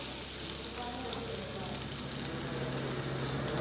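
Finely chopped onion fried in hot oil in a pan for a fish dish, giving a steady, dense sizzle with no break throughout and a faint low hum underneath.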